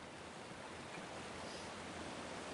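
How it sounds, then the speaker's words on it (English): Water in a Batman Arkham video game, a steady broadband rush like surf or flowing water, constant and fairly loud, with no voices. "I love the sound of water."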